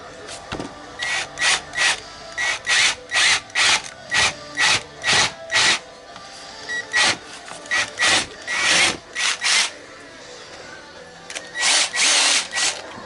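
A power drill runs in repeated short bursts, drilling holes in a 3-inch custom exhaust for a Nissan Skyline R33 GTS-T, starting and stopping in an irregular rhythm, loud and close, with brief pauses between.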